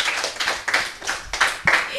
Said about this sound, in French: on applaudit Clara, c'était une belle présentation.